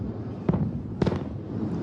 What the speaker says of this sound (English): The distant boom of missiles heralding a new and incredibly dangerous moment in the Middle East.